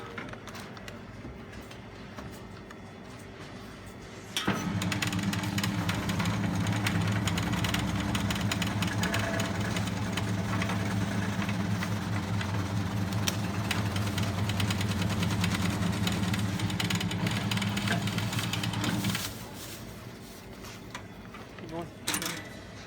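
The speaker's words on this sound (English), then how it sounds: "You can buy a loaf of bread unsliced and you put it in a machine and it comes out sliced" An unsliced loaf of bread is fed through a bread slicing machine. A steady mechanical motor drone starts abruptly, runs for about fifteen seconds, then cuts off.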